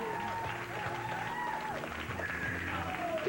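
Audience applauding and cheering contest winner Stéphanie at the Réanimons Leloup contest, a steady sustained wash of clapping with a faint voice speaking over it.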